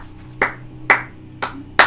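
Four sharp hand claps ring out in an uneven rhythm, each one crisp and close with a short ringing resonance behind it.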